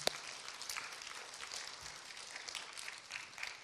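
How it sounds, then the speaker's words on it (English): Applause from a school chapel audience for elementary award winners called up front, a steady, even wash of clapping hands lasting the whole stretch, fairly soft and distant, with no voices over it. "give them a round of applause"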